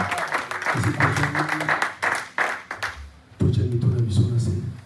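A church congregation at a Sunday service applauds loudly in acclamation, the clapping dense and rhythmic, mixed with voices and shouts from the crowd and a short lull partway through before it swells again.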